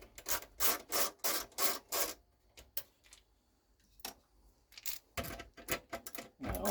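A ratcheting magnetic screwdriver backing screws out of an old home theatre PC, giving bursts of rapid clicking ratchet strokes in quick regular runs, pausing briefly and then resuming, close and fairly quiet.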